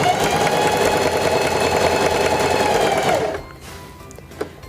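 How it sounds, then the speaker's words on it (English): A Singer 4411 heavy duty sewing machine runs a long, wide zigzag stitch in a steady, loud mechanical whir that stops abruptly after about three seconds, leaving near silence with one small click. "Place the fabric underneath the presser foot, lower the presser foot, and begin sewing."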